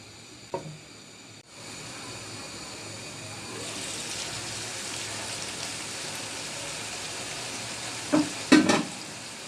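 Beef kala bhuna cooking in a pan produces a quiet continuous sizzle that rises after a brief clatter and runs on steadily, with a couple of louder clinks near the end.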